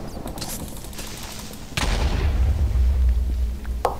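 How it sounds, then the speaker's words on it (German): A loud boom from an explosion in the Minecraft Tekkit Lite video game, sudden and heavy, followed by a deep rumbling roar, with rattling game sounds before it. "Hast du explodiert"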